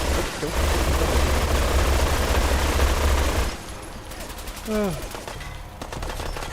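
Rapid machine-gun fire in a video game, a long loud sustained burst followed by quieter sporadic shots and mechanical clicks, with a voice speaking now and then.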